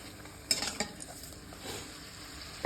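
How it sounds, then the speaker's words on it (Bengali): Luchi deep-frying in a pan of hot oil gives a steady low sizzle, broken by a few sharp utensil clinks and scrapes near the start and end. No one speaks. "আর এই যেখানে লুচি ভাজছি"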